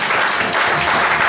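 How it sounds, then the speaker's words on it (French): A church congregation applauds, a dense, steady wash of many hands clapping at once, loud and close, sustained without pause. "est-ce que tu peux acclamer tout ça?"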